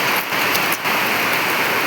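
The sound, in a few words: heavy rain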